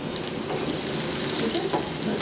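Green chillies dropped into hot oil with lightly browning garlic, giving a steady, close hiss of sizzling frying that runs unbroken for a couple of seconds with no talk over it.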